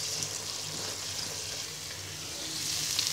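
Chicken samosa filling cooks in a covered pan with a steady, soft hiss of sizzling that stays even for the whole stretch, with no voices.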